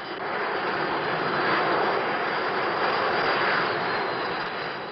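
A French Navy Étendard jet climbs at roughly 900 km/h, producing a continuous loud roar of engine noise that holds steady with a slight swell in the middle, with no voices over it.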